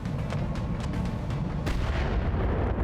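Turret weapons firing in the mech combat video game BattleTech (RogueTech mod): a dense run of booming artillery-like shots and blasts, loud and continuous with sharp bursts throughout and no talking.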